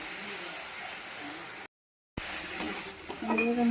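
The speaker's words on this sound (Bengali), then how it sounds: "ভালো করে এগুলোকে মিক্স করবো সামান্য জল দিয়ে দিচ্ছি যাতে মশলাটা পুড়ে না যায় ভালো করে ভাজবো" Spice masala for a pomfret fish curry hisses and sizzles steadily in a pan as it is stirred and fried with a little water, broken by a brief gap of silence before the frying resumes with scraping.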